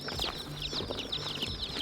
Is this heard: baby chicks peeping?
yes